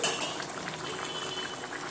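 Egg curry boiling in a covered pot on the stove gives a steady, soft bubbling hiss throughout, close and even, with no talking.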